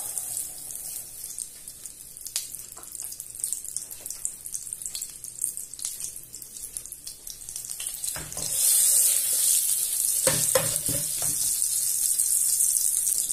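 Salted butter and a drizzle of olive oil sizzle in a pan as the base for broccoli risotto. A steady, hissing fry that jumps noticeably louder partway through and then holds, with a few soft knocks and no voices.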